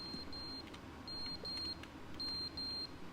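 A smoke detector in the video game The Stanley Parable chirps in short electronic beeps, a pair at a time in an uneven rhythm, over a low steady background hum.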